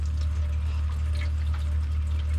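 Well water runs through a filter aboard a sailboat, a steady low hum with a soft continuous trickle and splash layered above it.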